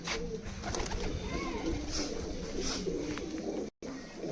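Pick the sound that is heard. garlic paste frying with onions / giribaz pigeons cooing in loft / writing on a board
giribaz pigeons cooing in loft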